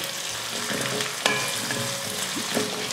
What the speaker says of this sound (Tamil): இந்த மாதிரி ஒரு காயை 1-2 நிமிஷம் நல்லா வதக்கி விட்டுக்கோங்க